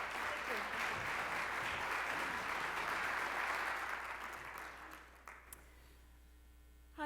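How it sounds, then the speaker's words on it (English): An audience applauds at a college entrepreneurship conference main-stage session, dense clapping that swells then tapers off and fades to near quiet, with a voice starting at the very end. "Let's give her a wonderful round of applause."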